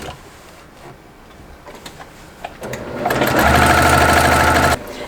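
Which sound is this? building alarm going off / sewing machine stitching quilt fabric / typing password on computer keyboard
sewing machine stitching quilt fabric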